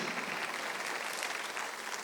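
A church congregation at a Sunday worship service applauding together, a dense, steady roar of many hands clapping at constant loudness, with no speech over it.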